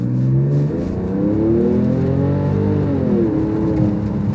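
Porsche 911 engine revving in second gear after a downshift, a steady loud drone that rises and falls with throttle, close and continuous with no talking.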